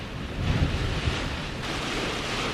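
Atlantic waves at high tide break on the Irish coast as storms approach, a broad rushing surf roar with a heavy swell near the start, mixed with gusting wind buffeting the microphone.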